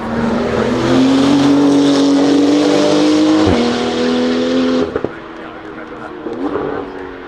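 A Porsche 935 twin-turbo flat-six engine revs hard and climbs in pitch, a loud close-up acceleration with a high whine, then lifts off and drops to a lower, rougher idle.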